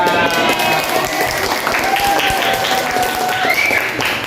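Students in an Indonesian classroom clap together at the close of a lesson, a dense, steady patter of many hands with voices and small cries mixed in throughout.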